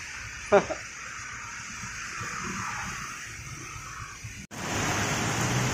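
Heavy rain hisses steadily on a road trip in Buendia, Philippines, with a brief knock early on and the downpour growing louder and closer near the end.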